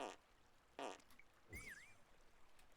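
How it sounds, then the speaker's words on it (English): Fart sound effect in a video game level, short and squelchy, heard once among a few brief game noises and a rising whistle-like tone, all fairly quiet. "Your secret fart is right here."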